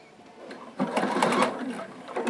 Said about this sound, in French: je démarre exceptionnellement en patchwork par quand même un point arrière pour que ce soit bien solide